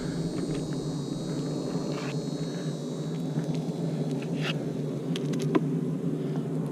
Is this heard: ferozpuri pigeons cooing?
no